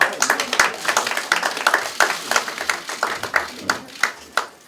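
An audience claps for the party leader Kim Chong-in at a Democratic Party press event in Daegu. The applause comes as quick, fairly close hand claps in an irregular rhythm, with a voice speaking over part of it.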